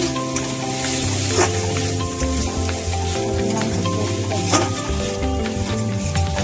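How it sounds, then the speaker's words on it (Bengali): Curry simmering and being stirred in a pan after water is added, a continuous wet sizzle with repeated scraping of a utensil against the pan and occasional clinks, close and steady throughout. "জল দিয়ে আরেকটু কষানো হচ্ছে"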